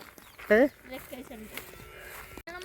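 A cow on a farm plot gives a single short, loud moo nearby, followed by softer rumbling sounds as people talk close by.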